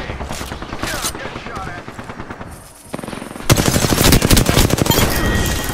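Video game firefight with rapid automatic gunfire, moderate bursts at first, then a short lull before much louder, denser shooting takes over, with game voice lines mixed in.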